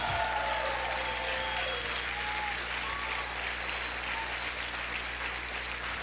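Sustained applause from a church congregation honoring the King, a dense continuous wash of clapping at moderate level with faint tonal music threading through it, steady throughout with no clear talk.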